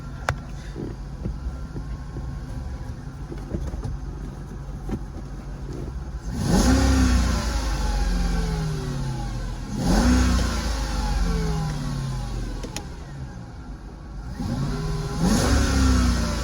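A classic V8 car engine idles, then revs hard three times in surges, each roar rising and falling, loud and close.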